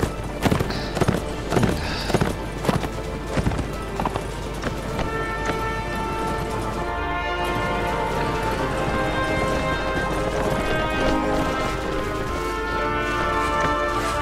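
Horse hooves gallop in the medieval combat game Mount and Blade: Warband, a steady rapid clip-clop rhythm running throughout, moderately loud over a busy battle ambience.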